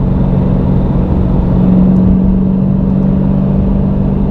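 A Dodge Challenger Scat Pack muscle car drives into a turn, heard from inside as a steady, loud engine rumble and road drone. A brief mid-pitched tone rises slightly as it holds speed, with no speech.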